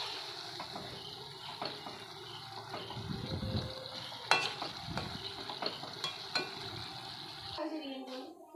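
A cooking mixture in a pan in a village tin kitchen simmers and sizzles softly after water is added, with scattered scraping stirs and clinks close by, and the sound cuts short at the end.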